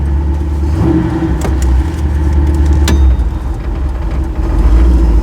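A 1953 Chevrolet hot rod truck's engine pulls hard under acceleration, a loud, steady, close-up drone with a couple of brief sharp bursts over a deep low rumble.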